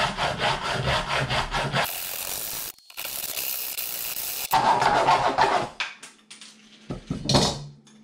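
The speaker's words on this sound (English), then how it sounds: "I think I'm going to cut it off with a hacksaw." A hacksaw cuts the lid off a metal can while a lightweight hiking stove is being made, with loud rasping back-and-forth strokes in two bursts separated by short pauses and no talking.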